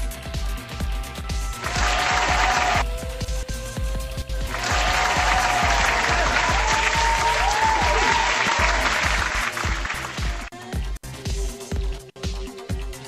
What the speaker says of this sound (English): Premature applauding.